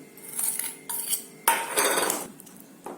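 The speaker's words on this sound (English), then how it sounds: "I'll add this and we'll mix everything up nicely" Spoon scrapes and clinks against a bowl while garlic butter is stirred together with chili flakes and crushed garlic, bursts of clattering mixing with short pauses in between, close and fairly quiet.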